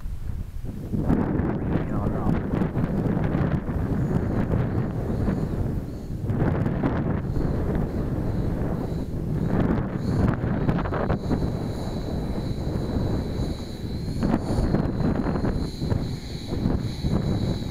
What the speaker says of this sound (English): I appreciate the wind.